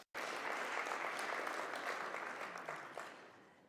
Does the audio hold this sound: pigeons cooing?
no